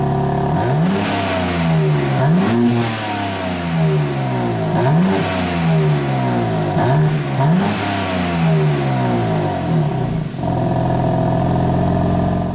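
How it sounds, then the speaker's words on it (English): A 2021 BMW M3 engine revs repeatedly through its quad exhaust, its pitch climbing and snapping back in a series of loud, throaty bursts. "You also have massive exhausts around back, four different exhaust pipes with huge exhaust outlets."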